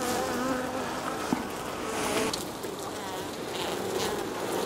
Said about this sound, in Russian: Пчелы миролюбивые.